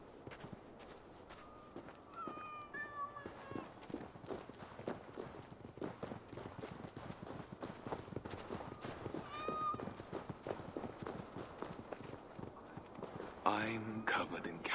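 Several cats meowing in Assassin's Creed Valhalla, with two or three short, faint mews rising above steady footsteps and someone talking throughout.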